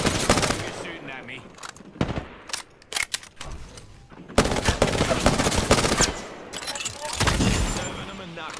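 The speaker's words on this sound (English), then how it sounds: "You're shooting at me." Video game gunfire crackles in sharp, loud bursts and rapid volleys with short pauses between them. Players talk over the shooting at times.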